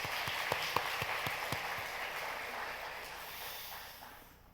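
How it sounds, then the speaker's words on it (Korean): A church congregation claps together during a Sunday service, a dense patter of applause that gradually fades away. "박수해 주시기 바랍니다."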